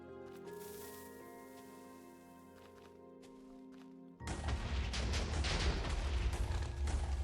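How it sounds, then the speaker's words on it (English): Minecraft TNT blasts in the void: after quiet tones, a sudden loud burst of explosions erupts and keeps rumbling with repeated crackling booms close by. "Keep the explosions going."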